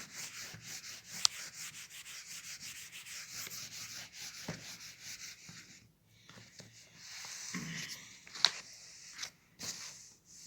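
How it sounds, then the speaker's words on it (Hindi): An eraser rubs writing off a board in a class setting, making repeated close scratchy strokes in quick rhythm with a brief pause midway and a few sharp knocks. "अब इसको रब कर लेते हैं यहाँ पे"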